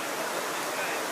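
A waterfall of clear, yellow-tinted water pours in a steady, dense broadband rush, close and continuous with no distinct breaks.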